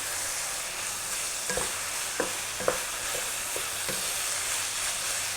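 Tomato sauce sizzles in a hot pan with minced pork for a Thai stuffed omelette, a constant frying hiss under a handful of close spatula scrapes and taps.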